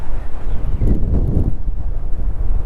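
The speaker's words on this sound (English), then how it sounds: "Windy as out here." Wind of over 20 knots at sea, heard from a fishing boat, rumbles loudly against the microphone in continuous buffeting gusts, with no voices over it.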